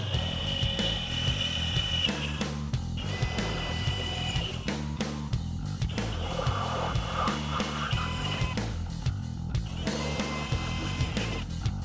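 Steady mechanical whirring of a step drill bit boring through a vintage Camaro spoiler, with a low droning hum and brief dips in pitch, loud and continuous throughout.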